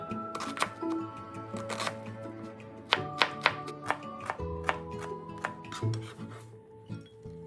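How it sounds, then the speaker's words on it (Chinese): A knife dices an onion on a cutting board: a run of sharp, distinct chops, quick at first and then spaced more irregularly, close and clear, with some rubbing and scraping between strokes and no talking. "洋葱一个，切丁。"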